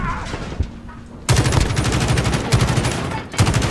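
Kilo 141 assault rifle in a multiplayer shooter match on the Piccadilly map, a short shot followed by a long, loud rapid-fire burst of automatic gunfire close by.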